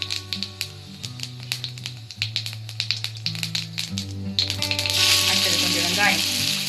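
Cumin seeds tempering in a spoon of hot oil in a kadai, faint crackling at first that swells into a brighter, louder sizzle toward the end, with background music.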